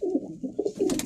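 A red-eyed pigeon of a flying breed, with a patta-dum tail and purple feet, coos softly up close in a brief run of low throaty notes.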